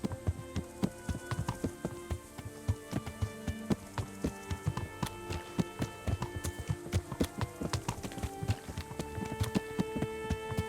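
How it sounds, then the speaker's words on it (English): A horse gallops in the video game Kingdom Come: Deliverance, its hooves striking in a fast, steady rhythm of sharp clip-clops that runs continuously and alone. "O cavalo tá mó rápido, só."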